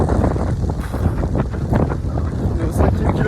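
Strong wind buffets the microphone outdoors during a triathlon training run, a steady, loud, broadband roar that carries without a break from start to end.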